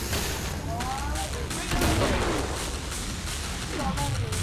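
Rapid bursts of gunfire and booming explosions in a noisy Killing Floor game soundtrack, with a voice talking over the chaotic action.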